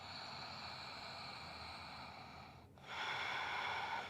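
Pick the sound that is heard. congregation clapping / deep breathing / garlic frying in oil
deep breathing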